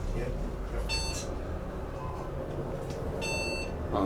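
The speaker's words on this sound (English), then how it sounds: "He's got the classic Monty chime too" A classic Montgomery traction elevator chime at a hotel, two separate bright tonal dings about two seconds apart, heard over steady lobby hum and ongoing chatter.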